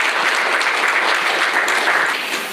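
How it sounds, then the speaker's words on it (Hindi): An audience at a Hindi talk on Sanatan Dharma breaks into applause, a dense, steady burst of many hands clapping together, close and loud throughout, easing off slightly at the end with no voices over it. "एक बार तालियां हो जाएं।"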